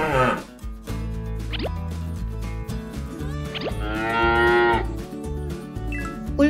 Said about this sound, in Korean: 젖소예요.